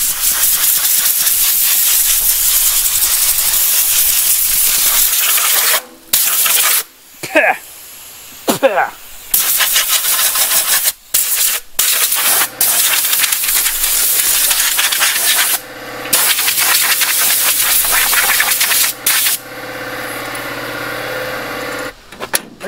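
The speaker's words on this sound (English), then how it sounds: "every time you mow you get a little bit of weed seed buildup in the radiator so we gotta blow that all out" Compressed air blasts hiss loudly through the radiator of a Farmall 460 tractor, clearing weed seed buildup in long bursts broken by short pauses, with a steady engine-like drone running underneath toward the end.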